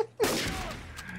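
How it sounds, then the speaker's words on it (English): An explosion in the video game Trouble in Terrorist Town, a single sudden loud blast that rings out and decays over about a second, following a brief moment of a voice. "What are all those explosions?"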